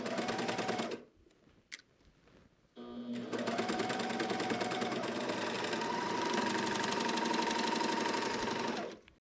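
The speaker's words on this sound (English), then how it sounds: "So I'm just going to serge that for you now." Janome serger sewing a circular ribbing seam, a loud continuous mechanical whirr that starts briefly, pauses with a few clicks, then runs steadily for about six seconds before stopping.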